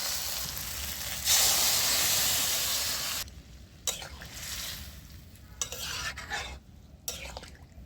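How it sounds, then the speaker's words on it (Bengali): Dal is poured into a pan of fried okra, setting off a loud burst of hissing steam and sizzle that fades into quieter bubbling with occasional spoon knocks against the pot, no one speaking. "এইবারে আমি এর মধ্যে ডালটা ঢেলে দেবো"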